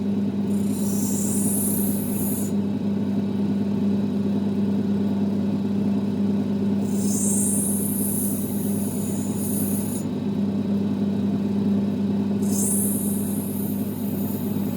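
An opal crystal rubbed against a spinning 600-grit lapidary wheel: a steady motor hum runs throughout, with three bursts of high gritty grinding as the stone touches the wheel.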